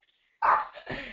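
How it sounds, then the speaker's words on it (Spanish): A dog barks nearby in a home, one sharp bark followed by a second, lower bark, heard alone without talking. "Uy, hay un perro por ahí."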